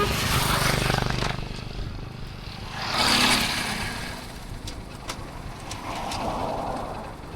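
A Honda Unicorn motorcycle rides along a road between Nashik and Sinnar, its engine droning steadily under wind noise, with a louder surge as the bike or passing traffic draws near.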